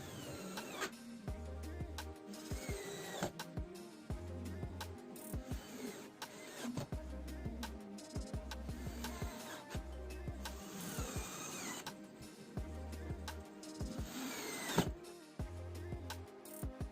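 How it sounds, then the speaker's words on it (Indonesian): Power screwdriver driving screws into a small two-door wooden cabinet, with repeated short whirring bursts separated by pauses and occasional clanks and handling noises, close and fairly quiet with no talk. "Setelah selesai proses perakitan, saatnya proses penyekrupan lur."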